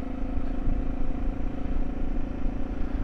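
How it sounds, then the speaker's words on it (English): Motorcycle rolling at slow speed, picked up by a helmet-mounted Audio-Technica microphone: a steady low engine drone with rumbling wind and road noise, continuous and fairly close, with no speech. "AudioTechnica at slow speeds sounds like this."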